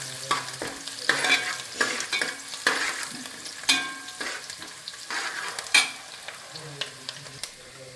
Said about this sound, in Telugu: మీడియం ఫ్లేమ్లో వేయించుకోవాలి